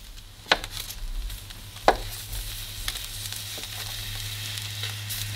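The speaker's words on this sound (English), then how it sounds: "allow the heat to brown it on both sides" Taro coconut sticky rice wrapped in banana leaves browns on a hot griddle, giving a quiet, steady sizzle with a few sharp crackles and pops near the start.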